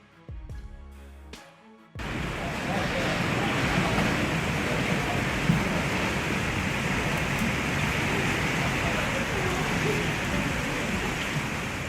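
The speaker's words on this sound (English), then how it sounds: "Baseball-sized hail pounded down continuously near Buffalo Lake" Baseball-sized hail near Buffalo Lake pounding down continuously as a dense, loud, unbroken roar of impacts, starting abruptly after a brief muffled moment and holding steady.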